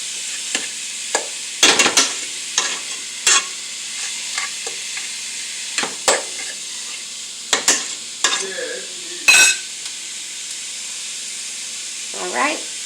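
Ground beef browning in a pan for street tacos, a steady soft sizzle broken by scraping stir strokes and occasional sharper clatters, close by with no talking.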